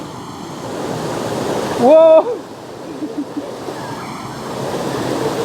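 Water from a waterfall crashing onto rocks, a loud steady broadband rush heard close, with a brief voiced exclamation partway through.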